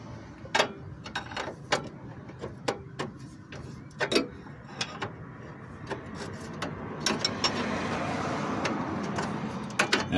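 A hand ratchet clicks in short bursts while tightening the ball joint castle nuts on a Chevy Blazer front suspension, the sharp ticks coming close and irregularly with pauses between strokes.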